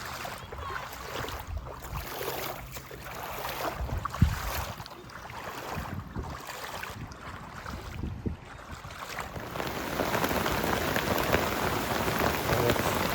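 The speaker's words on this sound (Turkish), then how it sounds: "2 saattir sağlam bir yağmur yağıyor." Steady heavy rain pours down on a seaside campsite at Akçakoca, a dense hiss of drops pattering on surfaces that swells louder toward the end, with no voices.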